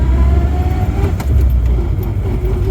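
An MG Midget car driving along with a steady engine note and road rumble, held at moderate revs rather than floored, loud and continuous throughout.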